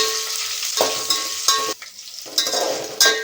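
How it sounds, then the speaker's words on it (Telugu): Green chillies frying in hot oil for a pulao give a broad, close hiss with a brief drop in the middle, broken by a few sharp stirring scrapes against the pan and no voices. "పచ్చిమిర్చి వేగుతుందండి"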